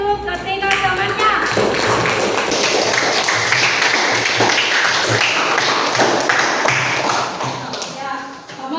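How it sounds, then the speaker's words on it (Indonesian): Students in a school classroom clap for three classmates during a student council election session, a loud sustained burst of applause filling the room for several seconds before tapering off, with some voices mixed in. "berikan aplaus untuk ketiga temannya"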